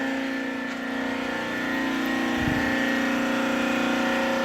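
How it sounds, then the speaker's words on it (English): Hydraulic pump on a Bluedog BAS-63 alligator shear starts up, a steady mechanical hum with tonal whine, joined by a brief low thump midway as the motor kicks in, continuous and fairly close. "pump start."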